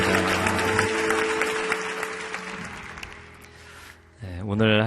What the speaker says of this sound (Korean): 큰 박수로 목사님 삶을 축복하겠습니다